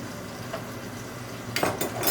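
Scallops sauté in a pan with a steady faint sizzle, then a big spoon scrapes and clinks against the metal near the end as they are flipped.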